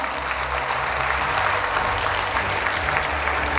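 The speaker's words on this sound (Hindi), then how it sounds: "हमारे इन छात्र छात्राओं के लिए जोरदार तालियां बजाएं" Steady, dense applause from a large crowd at a school felicitation ceremony fills the whole stretch, loud and continuous with no pauses.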